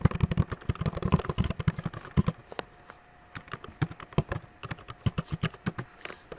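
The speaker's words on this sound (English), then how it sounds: "if we were to type in the URL of our site here" Quick bursts of key taps on a computer keyboard as a web address is entered, fairly quiet and close, with a pause in the middle before the clicking resumes.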